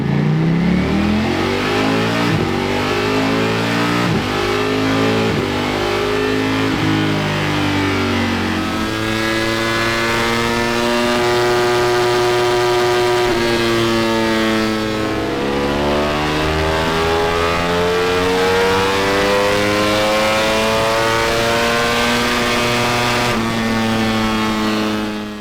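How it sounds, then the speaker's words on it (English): A decat Ducati Panigale V4S motorcycle run up on a dyno, a loud, raw engine roar with harmonics that sweep upward through repeated long revs, with dips between pulls and no voices. "Let's get it on the dyno, let's find out."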